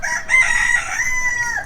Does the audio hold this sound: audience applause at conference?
no